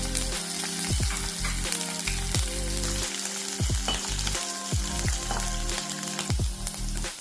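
Ginger, garlic and slit green chillies frying in a pan for spiced buttermilk curry, giving a continuous close sizzle over a low steady hum, with no talking.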